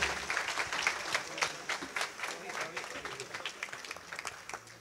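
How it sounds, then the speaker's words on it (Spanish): Quiet applause from an audience at a 50th birthday celebration, scattered individual claps rising and fading over several seconds, heard at a modest distance without a strong swell. "Un fuerte aplauso para ella, la compañera de su vida."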